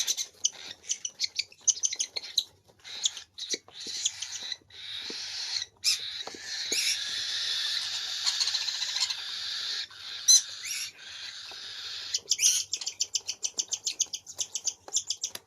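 Small pet cockatiels and conures chirp and squeak in rapid bursts and trills, close and busy, with brief pauses between flurries and no voices.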